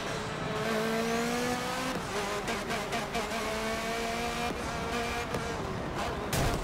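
A race car's engine revs up through the gears in the Forza Motorsport 7 racing game, a loud continuous drone that rises and then drops at each shift, with some tire noise, heard close and with no talk.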